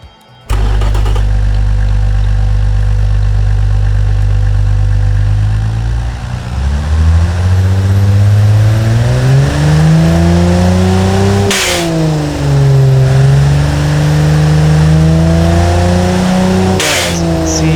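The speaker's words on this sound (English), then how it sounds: "now let's fire this puppy up and see what kind of result we will get" A turbocharged 250ci inline-six in the Automation game fires up and idles low and loud, then revs repeatedly, the pitch climbing and falling in long sweeps with no talk.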